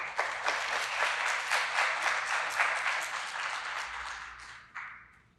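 An audience claps steadily in a hall to welcome a symposium speaker, warm continuous applause that holds for several seconds, then tapers off with a few final claps.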